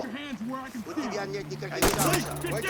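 Gunfire in the tactical shooter game Ready Or Not: one sharp, loud shot bursts out partway through, with ringing noise after it, while several players talk excitedly over the action.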